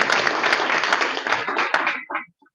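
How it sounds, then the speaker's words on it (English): Rotary Club meeting audience applauding for a long-serving sheriff, a full burst of many hands clapping that thins out and stops abruptly near the end, followed by near silence. "I think we ought to give him a round of applause just for that service"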